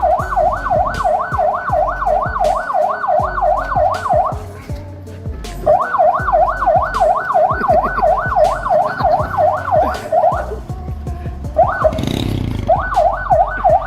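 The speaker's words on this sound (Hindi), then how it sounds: "पुलिस की गाड़ी का सायरन" A loud police siren wails in rapid rising-and-falling cycles, pausing briefly twice before resuming, with a low engine hum underneath.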